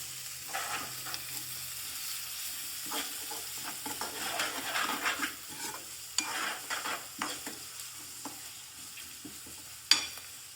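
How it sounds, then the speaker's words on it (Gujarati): Tomatoes stirred into a frying onion-and-spice mixture in a pan, with steady sizzling and frying hiss under repeated scraping and stirring strokes, plus a sharp utensil clink near the end. "તો આપણે હવે ટામેટા એડ કરી દઈશું અને સારી રીતે મિક્સ કરી દઈએ."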